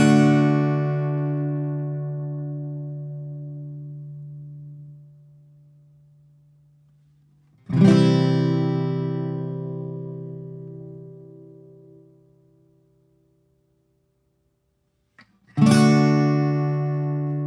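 Acoustic guitar playing the bridge chords of a song: three loud strums, each ringing out and slowly decaying before the next, played alone with no voice.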